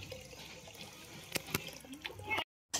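Water runs faintly and steadily at home as cattle are given a drink, with a couple of sharp clicks near the end.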